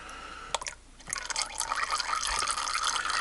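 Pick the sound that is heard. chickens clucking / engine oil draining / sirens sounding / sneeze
engine oil draining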